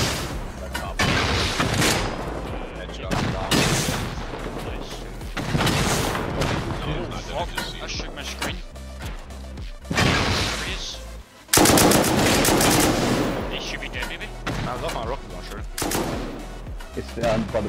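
Dense automatic gunfire and heavy booms from a large fight in the survival game Rust on console, with loud rapid bursts nearly continuous throughout and players talking over the shooting.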